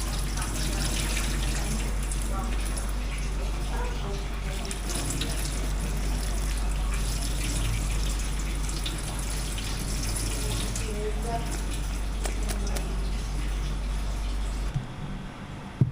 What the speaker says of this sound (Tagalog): ating ugasan sa running water